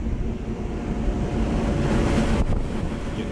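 A Goodman unit's Copeland scroll compressor runs on a rooftop with a loud, steady mechanical roar and a faint tonal hum, heard up close outdoors with wind buffeting the mic.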